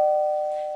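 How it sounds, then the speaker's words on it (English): A single clear notification bell ding, a pure bright ring that starts at once and fades slowly over under a second, alone and close. "ring that bell"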